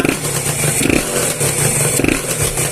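A Honda NSR two-stroke motorcycle with an RC electric power valve blips its throttle close by, giving a loud, raspy engine note that rises and falls in short revs over a steady idle.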